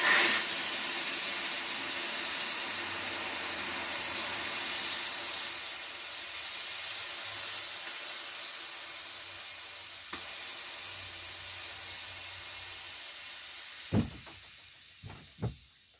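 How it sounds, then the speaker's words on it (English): Air hissing out of an air compressor after a Briggs and Stratton 2.5 hp carburetor rebuild, a loud steady hiss that runs for a long stretch, then fades and ends with a few sharp clicks. "Now we let the air out of the air compressor."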